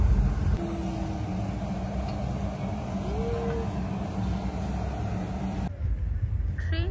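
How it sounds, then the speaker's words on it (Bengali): A train passing at Kolaghat makes a continuous broadband rumble at moderate distance and holds steady for several seconds before cutting off sharply near the end. "এই দেখো ট্রেনটা যাচ্ছে।"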